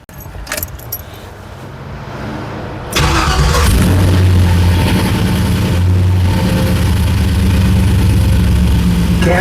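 Keys jangle, then an LS-swapped 1981 Trans Am with a Pypes Violator exhaust cranks and fires up, settling into a loud, steady, rumbling idle close by.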